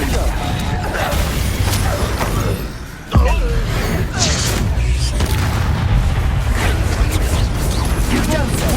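Confringo blasting-spell explosions in Hogwarts Legacy, booming over a dense, loud battle din, with a sharp blast near the middle and constant rumbling and crashing throughout.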